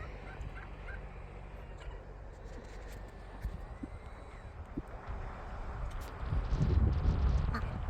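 Farm birds including geese and ducks in a barn or pen on a farm that also keeps cows and chickens, with continuous low clucking and gobbling chatter that grows louder toward the end.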